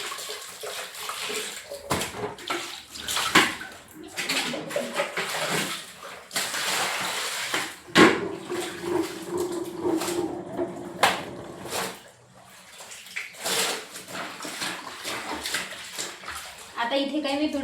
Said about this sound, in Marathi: आता परत दुसऱ्या पाण्याने स्वच्छ करते.